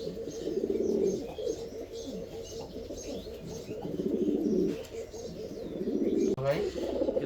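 Fancy pigeons, among them an English Tumbler, coo in a continuous low throaty chorus close by, the rolling calls swelling and fading while someone talks over them.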